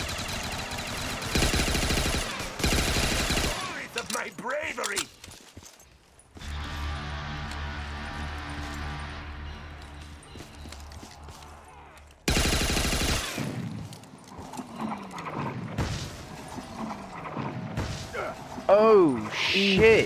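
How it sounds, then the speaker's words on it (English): Cannon fire and explosions in a pirate island video game, a series of loud, booming blasts and bursts scattered through the clip, mixed with excited voices talking over the action. "I just shot a cannon at it."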